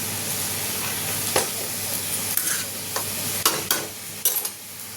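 Greens cooking in a pan with fried bori lentil dumplings and mustard paste, a loud steady sizzle broken by several sharp spatula scrapes and knocks toward the end, no talking.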